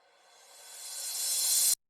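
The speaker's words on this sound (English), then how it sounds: "A reversed crash" A reversed crash cymbal swells steadily from near silence into a bright, hissing peak, then cuts off abruptly.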